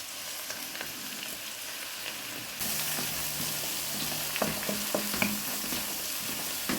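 Onions sizzle in a pan with peri peri masala, with a steady frying hiss that grows louder partway through. Occasional scraping stir sounds break in near the end.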